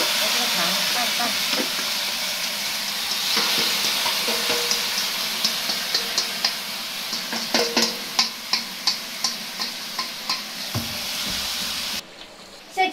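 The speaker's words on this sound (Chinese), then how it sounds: "把这个糖拌拌" Sugar and ginger stirred in a hot wok for homemade ginger candy: a constant loud sizzle and steam hiss, punctuated by a regular series of sharp spatula scrapes and clacks that grow more distinct, then a brief break near the end.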